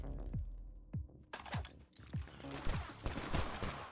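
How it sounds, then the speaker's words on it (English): Shotgun blasts and burst rifle fire in a battle royale video game's final circle: sharp repeated gunshots, a few spaced single cracks followed by denser rapid bursts, close and fairly loud. "that's some intense shotgun fire from Crypto King 240, but Super Diva's burst rifle is keeping him on his toes"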